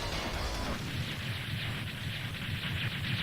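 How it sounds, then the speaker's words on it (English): Charged Double Cyclone weapon fired in the video game Mega Man X4, a loud sustained whooshing roar like rushing wind and rumble, steady throughout with no talking. "That's the charged double cyclone."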